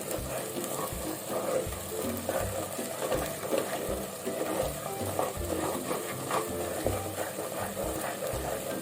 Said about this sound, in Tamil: இதை நல்லா கைவிடாமல் கிண்டுவோம்.